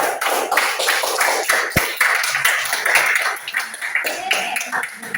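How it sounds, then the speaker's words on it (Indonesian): A sixth-grade class claps in their classroom, with scattered, uneven hand claps and sharp taps close by, a few louder individual strikes standing out and light voices mixed in. "Beri tepuk tangan dulu"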